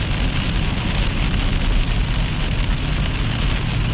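Heavy rain falling hard during a summer thunderstorm with little wind, a dense, steady roar of drops on surfaces, loud and continuous throughout, with no talking.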